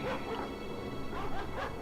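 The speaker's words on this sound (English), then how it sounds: "They've got their war dogs at the back" War dogs bark and yip in a Rome: Total War battle, several quick barks over a dense din of fighting, distant to mid-range and fairly loud in the mix.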